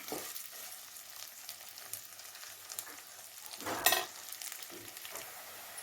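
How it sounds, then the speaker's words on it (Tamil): Onions sautéing in a pan for a village-style spicy kuzhambu, a soft steady sizzle close by with occasional stirring scrapes and one brief louder clatter near the end. "வெங்காயம் வந்து நல்லா வதங்கணும்"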